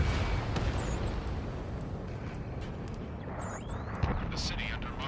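Combat in the flight game Ace Combat 7 over a city under martial law, a deep rolling rumble of jet roar and explosive booms with scattered sharp gunfire cracks, continuous and heavy, with a voice speaking over it.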